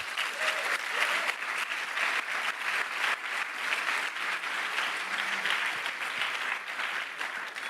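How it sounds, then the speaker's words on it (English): A room gives sustained applause for the jury at an entrepreneurship centre demo day, a full, even roar of clapping from a sizeable crowd that keeps going at the same level for nearly eight seconds. "a round of applause for our jury"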